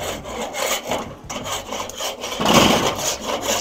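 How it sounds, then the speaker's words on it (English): Wire grill brush scraping back and forth across the grates of a Weber kettle charcoal grill, a steady close rasping scrub with repeated strokes, growing louder near the end. "I'm going to brush these grates down a little bit."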